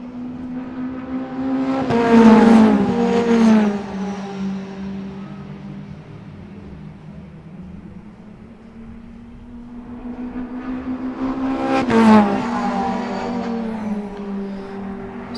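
Mitjet race cars circulating at Riga, engines swelling loud as they pass close by around two and twelve seconds, then fading to a steady distant drone between passes.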